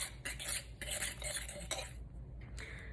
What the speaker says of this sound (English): Whisk this all together and then rub it all over your pork chop.